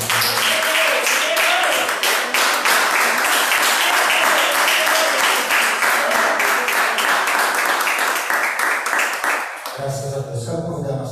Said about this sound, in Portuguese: E você aplaude o Senhor nessa noite.